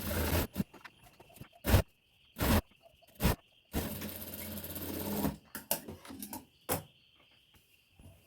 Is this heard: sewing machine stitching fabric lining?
yes